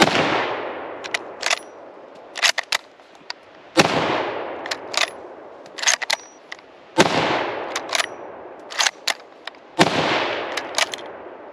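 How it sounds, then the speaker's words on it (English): A Remington-built M1891 Mosin rifle is fired at an outdoor range, four loud booming shots spaced about three seconds apart, each trailing off into echo, with sharp clicks and clacks from the bolt being worked between shots. "it's my turn to try shooting this good old big green gun"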